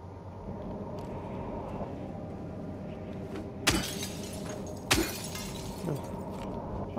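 Glass shattering in Silent Hill 2 Remake, two sharp, bright breaking crashes a second apart over a low steady ambient drone, with a fainter tinkle afterward.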